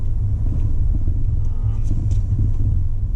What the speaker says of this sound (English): The noise in the cabin is not too bad.